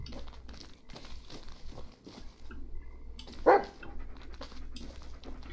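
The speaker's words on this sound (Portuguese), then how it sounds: "O cachorro enrolou tanto para atravessar, sai correndo." Dog in the Blair Witch video game panting and giving a single sharp bark midway, heard over quiet rustling ambience with soft footsteps.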